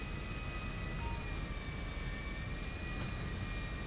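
Steady broadband airplane engine rumble with a faint whine as an aircraft taxis across an empty airfield in a video game, continuous and fairly loud with no talk.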